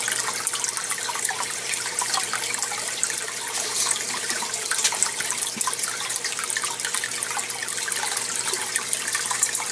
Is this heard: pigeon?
no